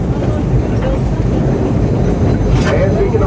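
Frisco Silver Dollar Line train ride, a steady loud rumbling roll of the moving train with faint clatter, heard continuously from on board.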